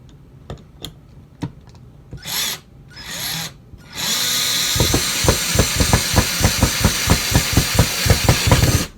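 A few sharp clicks, then short whirring bursts of a power drill before a sustained, rhythmic drive as a screw is run into an outdoor access panel, close and loud.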